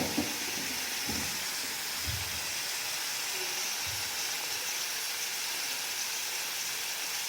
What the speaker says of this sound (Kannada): ಈ ಥರ ಫ್ರೈ ಮಾಡ್ಕೋಬೇಕು ಚೆನ್ನಾಗಿ, ಸ್ವಲ್ಪ ಮೀಡಿಯಮ್ ಫ್ಲೇಮಲ್ಲಿ.